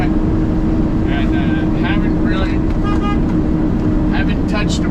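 A new Peterbilt truck engine drones steadily while driving, a loud, continuous low rumble filling the whole stretch, with faint intermittent voice sounds on top.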